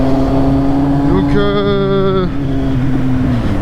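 A warm Kawasaki Z800 motorcycle ridden on a mountain pass gives a loud, close engine drone, then climbs through a sharp rev that holds high for about a second before settling back to a steady cruise.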